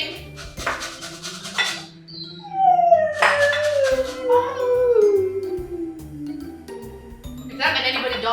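A dog howls loudly and close in a home kitchen during baking, one long wavering howl sliding down in pitch, with clattering dishes and bits of speech around it.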